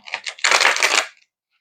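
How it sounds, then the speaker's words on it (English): Deck of cards being shuffled by hand: two short riffling bursts followed by a longer, louder ruffle of flicking cards lasting under a second, close and dry, then silence. "We're going to go ahead and shuffle."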